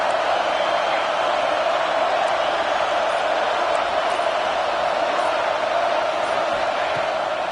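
Home crowd at an Ohio State vs USC college football game roaring on third down, a steady, loud, sustained stadium wash of cheering with no break.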